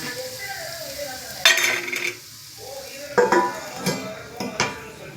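Tomatoes with rock salt sauté in a pan with a soft, steady sizzle, broken by a few sharp scraping stirs and clinks of a spoon against the metal.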